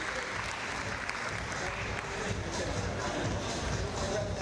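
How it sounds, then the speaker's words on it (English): Sustained crowd applause after a climbing competition final, a dense wash of many hands clapping at once, steady and loud throughout with some murmuring voices mixed in. "the crowd are giving these two a big round of applause"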